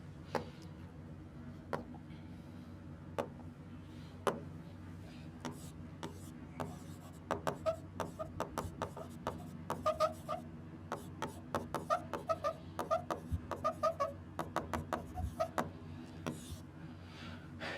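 Chalk or marker on a classroom board during a physics lesson, producing a steady run of soft taps and short scratchy strokes that grow denser and more rhythmic toward the middle and end, with no talking.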